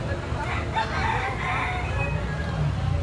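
A bantam rooster crows near at hand amid a steady background murmur of people and outdoor noise, the call sounding over continuous babble.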